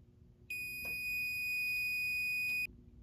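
A fire alarm control panel sounds on system reset, giving one steady, piercing electronic tone held for about two seconds before cutting off, loud against a quiet indoor room.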